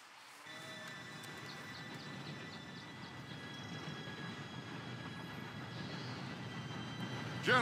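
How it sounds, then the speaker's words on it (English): In Red Dead Redemption 2, a train approaches with a steady, building rumble of wheels on track, growing slowly louder with faint high squeals and a brief louder burst at the end, no talking. "Train should be here any minute now."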